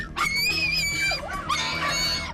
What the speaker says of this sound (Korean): 갑자기 비명에 가까운 소리로 짖어대던 아숑이.